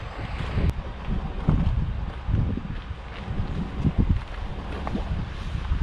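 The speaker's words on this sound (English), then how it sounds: "It's windy out here and actually pretty chilly." Gusty wind buffeting the microphone in rumbling bursts by the Snake River in Washington, with a faint watery slosh underneath.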